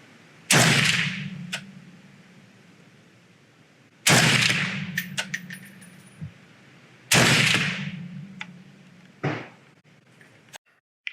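An FN SCAR 20s rifle fires three loud, close shots spaced a few seconds apart, each a sharp crack with a booming decay. Fainter clicks and clatter of handling follow between the shots, with no talk.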